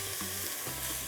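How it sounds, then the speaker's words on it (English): Vegetables sizzle and fry in a pot for Dominican shrimp and rice soup as they are stirred, a steady crackling hiss with soft scraping of the spoon, close and without talk. "So I'm just gonna mix that up."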